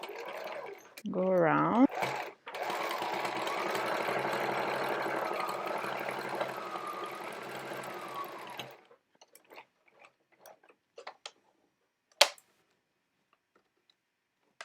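A sewing machine top-stitching the corner of a homemade fabric mask, a steady close mechanical whir running for several seconds and then stopping, with a brief spoken phrase near the start and faint clicks afterward.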